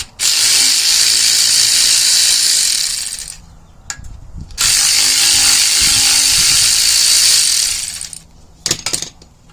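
A power tool whirs loudly in two long bursts while removing front axle brackets, with clanking metal pieces and a short rattle between and after the runs.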